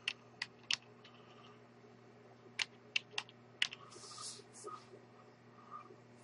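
Keys clacking on a computer keyboard in a quiet room, a few sharp isolated presses followed by a short burst of faster typing, fairly close with a low steady hum underneath.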